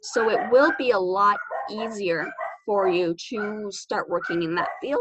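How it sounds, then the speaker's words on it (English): Several dogs bark in the background of a home, their yaps blending under a person's continuous speech throughout. "Sorry about the dogs barking."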